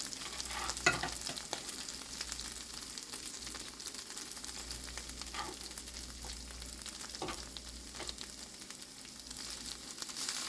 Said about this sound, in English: And I'm going to also add my onions in there.